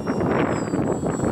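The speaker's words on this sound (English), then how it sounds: "before that wind gets much worse, it's time to get this thing on the ground" Wind blowing outdoors makes a steady, gusty broadband roar that fills the whole stretch with no clear pauses, loud and close against the microphone.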